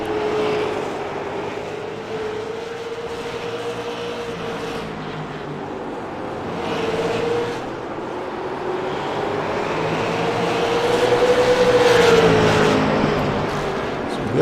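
Super late model stock cars race hard at Smyrna, their engines a loud continuous roar that rises and falls in pitch as the pack circles the track, with no talking.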